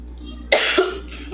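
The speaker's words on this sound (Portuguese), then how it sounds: "Ai, sei porque foi me dar essa crise agora de tosse." A teacher coughs in a short, close burst during a Portuguese grammar lesson, with a second smaller cough right after, over a steady low hum.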